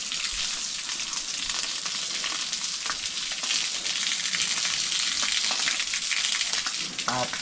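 A strong water jet from a large hose sprays cows during a bath on a hot, dry day, making a loud, steady rushing hiss that fills the whole stretch without a break.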